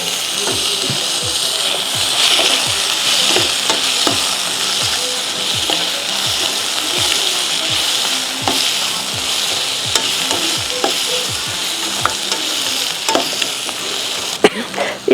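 Onion and tomato fry in a pan for an egg gravy, a steady bright sizzle running throughout while a utensil scrapes and stirs in regular repeated strokes, close and fairly loud with no talking.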